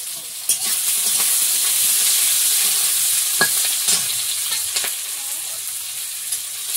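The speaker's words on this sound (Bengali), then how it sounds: "এই পাশে তেলের মধ্যে একটু পাঁচ ফোড়ন দিয়ে আর পেঁয়াজ কুচি," Panch phoron and chopped onion frying in hot oil, a loud, steady sizzle close by with a few stirring clinks and scrapes over the top.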